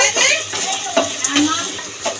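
Lentil dumplings (bori) are stirred and fried in hot oil in a Bengali village kitchen, giving a close, continuous sizzle broken by soft stirring clatters, with voices faintly mixed in.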